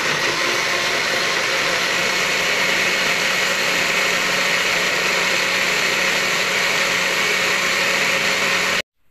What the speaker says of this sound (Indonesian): Baru deh di blender.